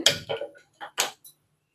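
A few sharp, crisp clicks snap close by in a quick, irregular series as a gas stove igniter sparks, then quiet.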